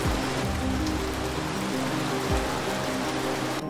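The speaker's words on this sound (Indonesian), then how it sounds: "Curah hujan dengan intensitas tinggi mengakibatkan wilayah Kabupaten Kerinci juga terendam banjir." Heavy rain during the peak wet season in Jambi province, Indonesia, a dense, constant hiss of downpour with a low rumbling underneath, loud and close with no voices.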